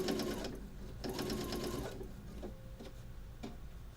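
A sewing machine runs a straight stitch along a rolled hem, its rapid mechanical needle chatter coming in bursts separated by short pauses, close and alone.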